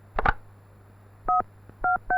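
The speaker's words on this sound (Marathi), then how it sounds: "गृहमंत्र्यालाच फोन लावतो." A telephone keypad beeps with dual-tone dialing, one quick double press first, then three steady, clear beeps spaced about half a second apart, close and alone.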